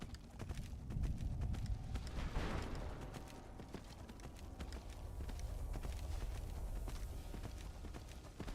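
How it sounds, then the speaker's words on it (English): Hooves of a demon horse clip-clopping in a video game, a steady rapid stream of sharp hoof strikes up close at a lively gait with brief rumbling effects and no talk. "I'll get off of the demon horse."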